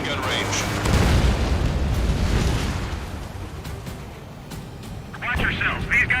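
Bombers are blown apart in the Ace Combat 7 flight combat game. Heavy rumbling booms and bursts roll on under engine drone, with voices talking over the action.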